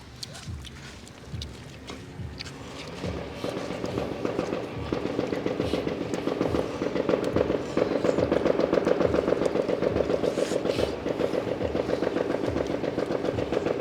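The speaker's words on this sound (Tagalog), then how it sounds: "Daming paputok." Many firecrackers and fireworks go off in rapid, crackling bursts that build into a dense, continuous barrage of pops, loud and close.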